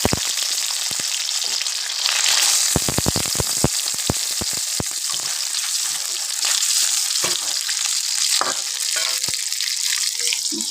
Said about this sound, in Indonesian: Kita goreng dulu pentolnya guys.